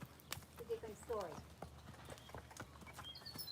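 Horse's hooves clip-clop faintly on a stable floor in a few scattered, uneven steps, with people talking quietly nearby.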